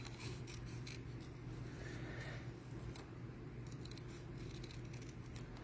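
Scissors snip around a stamped paper image in quick, faint clusters of cuts, close by over a loud steady hum and background noise.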